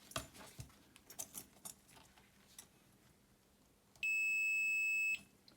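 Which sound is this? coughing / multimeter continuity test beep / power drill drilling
multimeter continuity test beep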